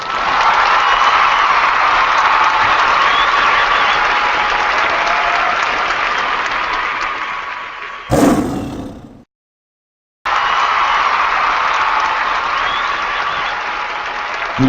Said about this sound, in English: claps are a little bit early